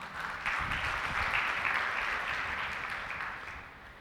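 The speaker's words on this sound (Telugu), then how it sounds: "చప్పట్లు కొట్టండి మాటకి" A church congregation applauding during Sunday worship, a sustained burst of many hands clapping that swells quickly and fades gradually over a few seconds.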